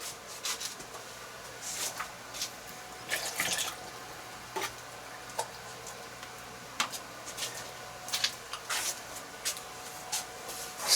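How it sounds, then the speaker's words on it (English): Paint-rinse water is changed during a watercolor session, with faint trickling, drips and small splashes from a tap or container, scattered clinks breaking through soft background hiss. "I want to just change up my water and get it a little bit cleaner."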